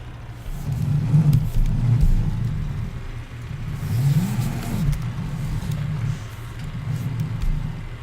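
A yellow truck's engine in Farming Simulator 17, a steady mid-pitched rumble with a couple of revving swells as it drives, loud and continuous with no talk over it.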